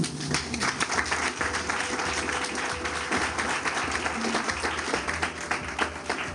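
Sustained round of applause from the audience at a stock exchange opening bell ceremony marking International Women's Day, steady dense clapping filling the room throughout with no voices over it.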